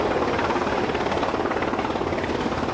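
A helicopter at a sea rescue operation gives a continuous loud rotor and engine roar with a steady pulsing throb, no voices over it.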